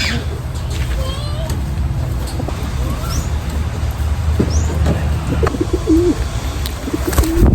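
Pigeons coo softly during their first bath, scattered calls over steady traffic rumble with a few splashes and knocks nearby.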